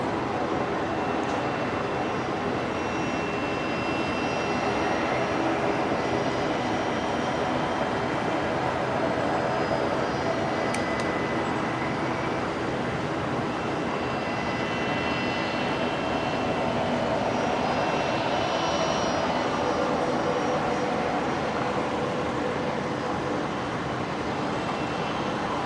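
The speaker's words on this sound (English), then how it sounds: "next aircraft to arrive on 19 left is going to be Velocity 993 coming in from Sydney" Airliner on approach to Brisbane Airport runway 19 left at night, a continuous broad jet roar that holds steady and loud throughout, with faint tonal whine layered over it.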